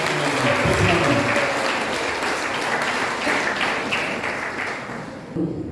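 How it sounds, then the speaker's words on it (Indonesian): Congregation applause for the worship team at a Sunday church service, dense clapping that starts loud and gradually thins, with some voices and a few thuds mixed in near the end. "Bagi tepukan gemuruh bagi tim"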